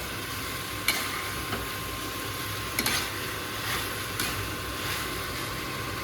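Vegetables for pasta stirred in a pan over a low gas flame, a soft continuous sizzle with occasional spatula knocks and scrapes, close and steady with no talking.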